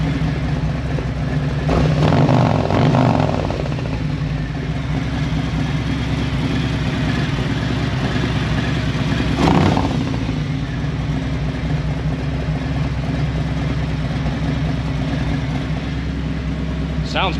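A 2021 Harley-Davidson Ultra motorcycle with an S&S Sidewinder exhaust runs close by, idling with a steady low rumble and rising in two short revs, with faint voices around it.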